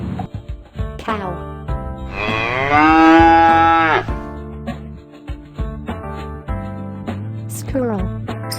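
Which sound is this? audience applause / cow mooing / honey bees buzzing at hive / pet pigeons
cow mooing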